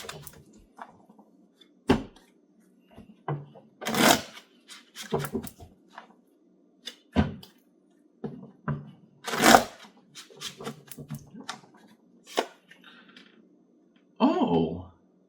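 Tarot cards shuffled for a reading, with sporadic close riffles, slaps and sharp flicks separated by near-silent gaps, plus a brief faint voice.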